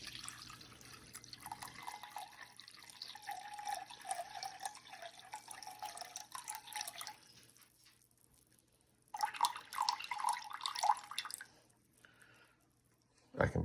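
Water runs from a kitchen tap into a container set on a kitchen scale for focaccia dough, a steady trickling stream for several seconds, a pause, then a second brief louder pour.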